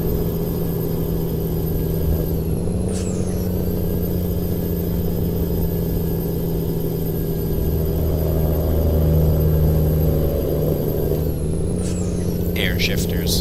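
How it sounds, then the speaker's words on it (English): A Kenworth K100 hauling a container in American Truck Simulator drones steadily; its engine note shifts twice with air-shifted gear changes, each one marked by a brief pneumatic hiss and a change in pitch. "Air shifters."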